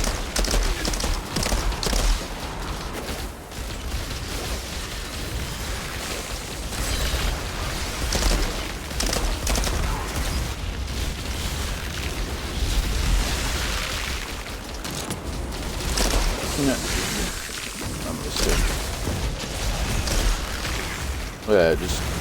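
Repeated booming blasts from abilities in the Outriders video game, with a technomancer character using a cold snap. Dense explosions and game effects roll on continuously at high volume, with someone talking over them.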